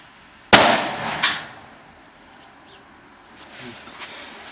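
A Komet Dragon firecracker is set off outdoors on New Year's Eve with a sharp loud bang, then a second smaller crack a moment later, followed by faint scattered pops and distant crackle.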